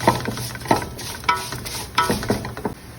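Chicken masala stirred and fried in a pan until brown: a soft sizzle under repeated scraping utensil strokes that come every half second or so.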